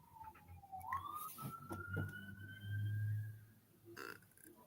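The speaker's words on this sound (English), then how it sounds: "Yeah, that was a fire truck." A fire truck siren wails by in the distance, a rising tone that holds and drifts, faint beneath low rumbling background noise with a few clicks and knocks nearby.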